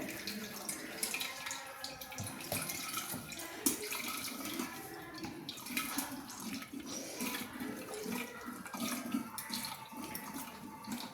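Water pours and splashes into a coconut milk junnu mixture, a continuous close-up gurgling stream with sloshing as it mixes, and faint background noise throughout.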